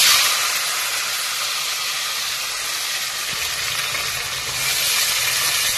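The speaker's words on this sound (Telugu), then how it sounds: "ఇలా ముందుగా మనము టమాటాలన్నీ వేసేయాలి" Tomatoes hit a hot pan in a steady, loud sizzle that holds for several seconds while garlic and onion tamarind stew is being cooked.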